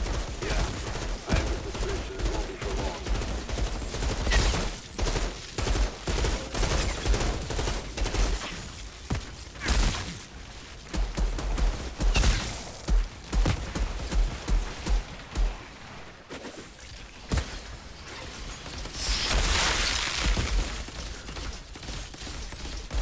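Pistols fire repeatedly in a fight in Outriders, sharp shots in quick uneven bursts over a constant rumble, some volleys close and loud, with occasional mechanical clatter between them.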